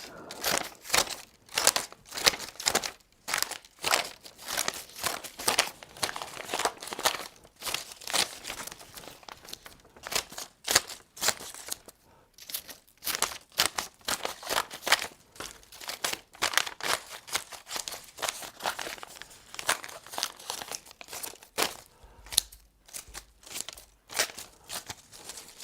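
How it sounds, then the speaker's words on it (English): Confidential paper documents crinkle, tear and crumple in busy, irregular bursts close by, a steady run of rustling and ripping with no voices. "I've got a lot of confidential stuff to cut up, so I better get busy."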